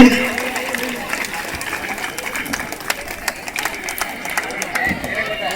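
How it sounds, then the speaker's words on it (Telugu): A crowd claps at a Sri Krishna Ashtami celebration in Pulivendula, Kadapa, a dense, steady patter of many hands held at moderate loudness for several seconds. "అందరూ కూడా చప్పట్లు పెట్టండి"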